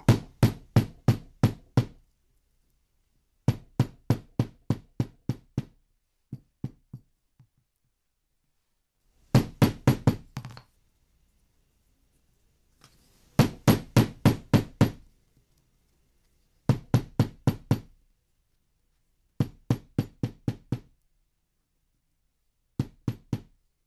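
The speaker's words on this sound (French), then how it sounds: "moi j'aime bien aplatir au marteau" A hammer taps a rolled paper bead flat, sounding as close, loud bursts of rapid knocks in groups of about six to eight, separated by short pauses, with no talking.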